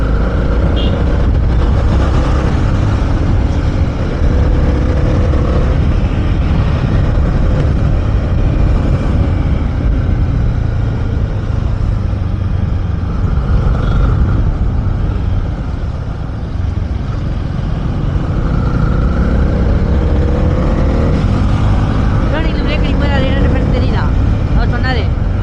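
A Honda CB300R BS6 300cc motorcycle rides on a test ride, its engine a loud, steady drone mixed with heavy wind rush, with a voice talking over it at times.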